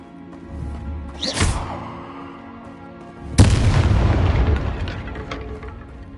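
Hogwarts Legacy Confringo blasting spell: a sharp whooshing burst followed a couple of seconds later by a loud, booming explosion that rumbles and decays slowly, close and forceful with no voices.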